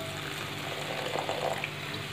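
A little water is poured into a pan of salt, turmeric and red chilli powder for an egg and dried shrimp curry, giving a steady close splash and sizzle that swells briefly in the middle.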